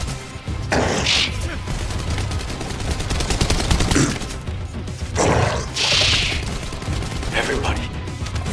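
Gunfire in a cutscene from The First Descendant video game: dense rapid bursts and crashing impacts over several seconds, loud and close, mixed with urgent voices shouting.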